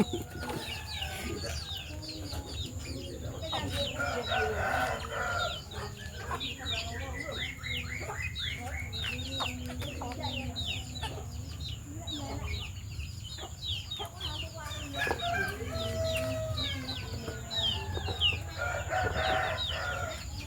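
A flock of chickens clucks and chatters continuously nearby, with an occasional crow, over a steady background murmur.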